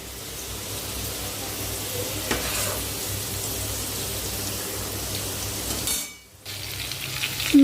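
Green beans half-fried in a wok (kadai) for a vegetable khichuri make a soft, continuous sizzle with a faint crackle, briefly dropping away near the end before resuming.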